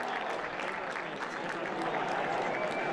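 Football crowd at an FK Pirmasens versus SV Elversberg match cheering and applauding after a goal, a dense steady roar of claps and voices filling the stadium throughout.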